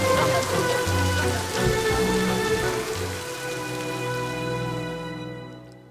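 Steady rain falls on a surface, a continuous dense patter that holds loud and even for several seconds before easing slightly, with no one speaking.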